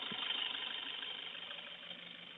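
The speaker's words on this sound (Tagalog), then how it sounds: "Patayin ulit natin yung makina tapos start ulit natin kung one click lang siya umandar." A Toyota HiAce with a 2KD diesel engine idles steadily at close range, a continuous rough engine drone running unbroken through the whole stretch with no talk over it.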